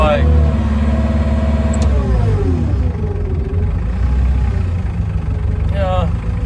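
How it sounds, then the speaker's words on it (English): A New Holland LS170 tractor's diesel engine idles steadily and fairly loud throughout, a constant low rumble with someone talking over it. "It seems to be idling okay, it's not rough."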